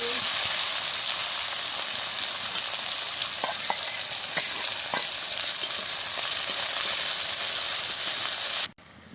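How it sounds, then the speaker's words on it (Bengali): Continuous sizzling and crackling of onions frying in hot oil, steady and close, with small pops scattered throughout before it cuts off abruptly near the end. "এবার তেল গরম হয়ে গেছে, আমি পেঁয়াজটা দিয়ে দিচ্ছি। পেঁয়াজটা দিয়ে ভালো করে ভেজে নিচ্ছি।"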